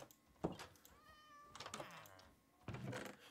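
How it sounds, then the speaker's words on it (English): Cats meowing in the survival video game Lone Survival, a few faint, short in-game meows spread among soft background sounds. "Hello, cats."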